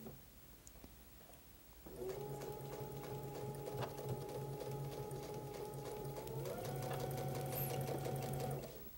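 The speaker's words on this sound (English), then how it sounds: "I want to sew with this one on top" A sewing machine stitching quilt pieces together, starting after a quiet moment and running with a steady whirring hum and rapid needle rhythm, shifting slightly in pitch as it speeds up, close and fairly quiet.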